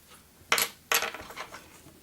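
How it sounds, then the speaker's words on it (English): Scissors trimming deer hair on a fly-tying project: two crisp, close snips about half a second apart, with a faint rustle trailing after the second one, in a quiet room. "I'm just going to cut this more or less flat."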